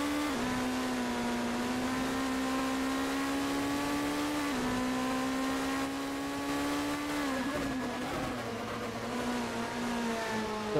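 A GT3 race car engine drones on-board at Spa in a sim racing game, holding a loud, steady high-pitched whine that dips and rises with gear changes and corner exits.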